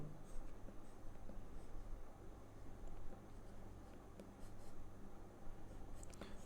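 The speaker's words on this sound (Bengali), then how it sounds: "তো এখানে লিখে দিচ্ছি আমি উচ্ছ্বাসিত" Chalk or marker scratching steadily on a classroom board as a teacher writes a word, a continuous faint scraping texture with small taps, close and alone.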